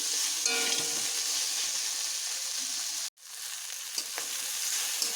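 Paneer pieces with spices and salt fry in a pan with a steady, fairly loud sizzle, briefly dropping out for a moment before the hiss resumes, with a few light stirring clicks.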